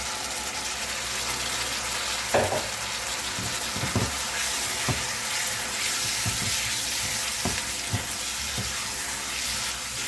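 Squid stir-fries in a wok for jjamppong, a spicy Korean seafood noodle soup. A steady sizzling hiss is broken by short utensil knocks and scrapes spaced every second or so.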